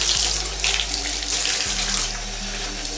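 A tap runs hard into a sink while a bleach-dyed t-shirt is rinsed under it, a steady close gush of splashing water with shifting hiss as the fabric moves through the stream.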